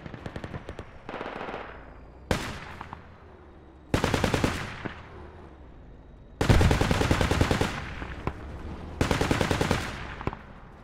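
Bursts of automatic gunfire in the military shooter game Project Reality, loud rattling volleys in four or five separate strings with pauses between, plus scattered single shots and a distant explosion.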